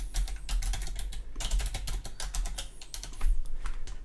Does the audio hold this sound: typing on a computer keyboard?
yes